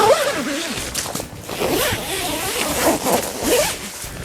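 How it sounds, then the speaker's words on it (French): A reinforced 10 mm zipper on the removable front panel of a Prologic Commander oval umbrella shelter is pulled open in one steady, continuous rasp lasting several seconds, close up and clear, with no voices. "qui s'enlève aisément grâce à cette fermeture éclair de 10 mm également renforcée"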